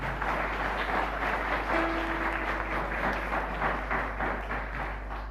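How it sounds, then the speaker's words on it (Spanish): A congregation applauds at a Catholic Mass celebrating a religious TV channel's anniversary, a soft, steady wash of distant clapping over a low hum. "Así que un aplauso nuevamente."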